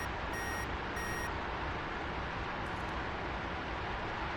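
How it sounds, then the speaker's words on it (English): Radar warning receiver in an F-4E cockpit in the DCS flight game: two short, sharp electronic beeps near the start, then a brief faint chirp, over a steady loud roar of engine and cockpit noise. "my RWR, every single time it picks up a new radar, anything, it also beeps at me"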